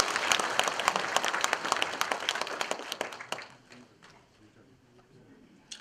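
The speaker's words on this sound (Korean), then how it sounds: "큰 박수 한번 주십시오." An indoor audience at a civic gathering breaks into loud, dense applause that peaks early, then thins into a few scattered claps and fades to near quiet, with one last clap at the end.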